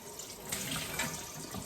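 Very hot water runs from a tap into a milking bucket being washed, a steady splashing flow with soft fluctuations.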